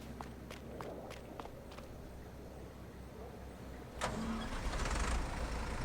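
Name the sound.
old tractor engine starting in a video game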